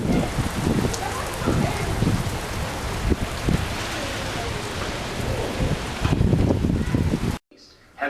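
Steady rain falls around a person out walking, a dense hiss with scattered drops and patters, loud and close throughout before cutting off abruptly near the end.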